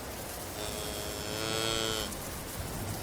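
A heifer calf lows once in a long drawn-out moo, fairly faint and somewhat distant, standing under a kitchen roof in the rain, over a steady background hiss.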